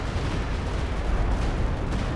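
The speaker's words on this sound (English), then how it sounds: "Stuka tries to help, but alas, doesn't get the greatest of hits" Stuka dive bomber strike explosions in the Company of Heroes 2 video game, during a 3v3 battle on Hill 400, make a dense, continuous low rumbling boom that stays loud for about two seconds, with no voices.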